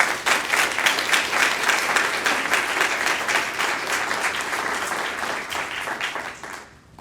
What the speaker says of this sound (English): If I could get another round of applause for our wonderful speakers